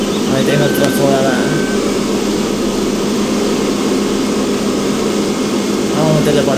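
A tractor engine hums steadily in Farming Simulator 15, a continuous loud low drone with a few faint clicks over it.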